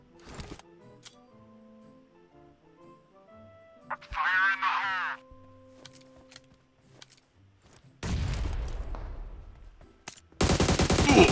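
Bursts of rapid automatic gunfire in a battle royale video game, loud and dense near the end, with sparser shots and other game sounds earlier and no talk.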